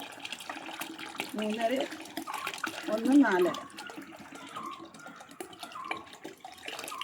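Clean water poured into a container while mixing a homemade toilet cleaner gives a light, steady splash that runs beneath a person talking.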